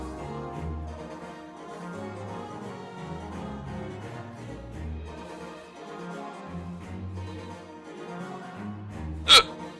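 One sudden, sharp hiccup from a person near the end, loud and brief against a quieter stretch of background sound.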